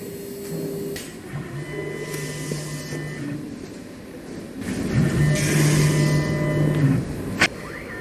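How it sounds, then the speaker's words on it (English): A Fastform 3D printer feeds powder and sweeps a blade across the build platform, giving a steady mechanical whir with sustained motor hums that rise midway, then a sharp click near the end. "At this stage we are feeding the powder into the 3D printer, and then we are using blade to distribute it over the volume of the floor."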